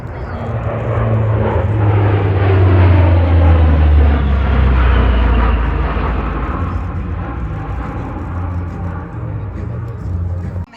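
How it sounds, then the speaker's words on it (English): A CP-140 Aurora patrol aircraft makes a high-speed pass at an air show, a loud roaring turboprop rush that swells, peaks and fades over about ten seconds. "here's a high-speed pass by your 140 Aurora"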